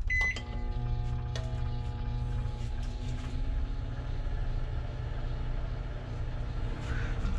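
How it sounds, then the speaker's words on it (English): A microwave oven draws power from a portable power station, humming steadily with a low electrical drone; a few beeps and clicks mark its start, then the hum continues unchanged. "A microwave."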